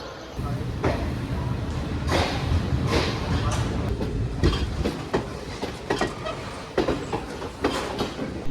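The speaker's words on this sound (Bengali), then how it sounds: "এই যে এই ট্রেনটা দাঁড়িয়ে আছে না, এই ট্রেনটা, এটা হচ্ছে ধানবাদ টু ফিরোজপুর গঙ্গা সুতলেজ এক্সপ্রেস" At a station stop, the Dhanbad to Firozpur Ganga Sutlej Express sits amid clattering rail noise, with repeated metallic clanks and knocks over a steady rumble and voices in the background.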